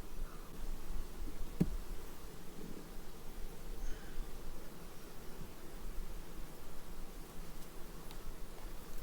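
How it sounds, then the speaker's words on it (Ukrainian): A fly resembling a bumblebee buzzes close around a beekeeper working a hive, a steady low drone with soft rustling and no speech. "це якась муха, але схожа на джмля"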